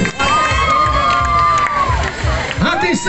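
A festival audience at a children's party in Itaguaí cheers and shouts as young ballet dancers come onstage, a dense crowd roar under rhythmic low thumps of music, with voices calling out over it.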